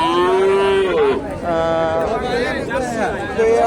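Cattle moo loudly and close at a busy Bogura cattle market, several long drawn-out calls overlapping one another over a constant murmur of crowd chatter.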